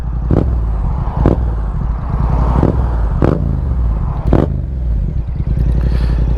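A 2024 Yamaha MT-07 motorcycle on a ride, its engine holding a steady, close low drone, broken every second or so by sharp clattering knocks and scrapes.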